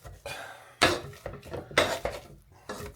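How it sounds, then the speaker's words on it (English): Boiled potatoes are mashed in a saucepan with nothing added, making a series of close, irregular thuds and scrapes of the masher against the metal pan, with short pauses between strokes. "mashing the potato basically"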